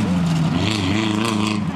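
A Honda race car's engine accelerates hard at a timed motorsport event, a loud continuous tone climbing steadily in pitch as it passes close by.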